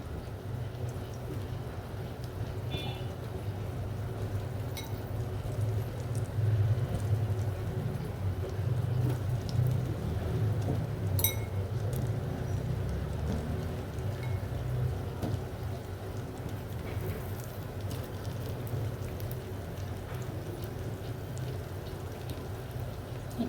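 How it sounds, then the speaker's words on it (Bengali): Beef kofta fries in white oil, a soft continuous crackling sizzle like light rain, fairly steady with a few sharper pops and ticks, no one speaking. "এটা আমি ভালো করে ভাজবো।"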